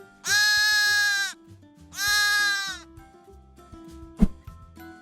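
Two loud, drawn-out goat bleats close by, each about a second long, followed by quieter rustling and a sharp knock.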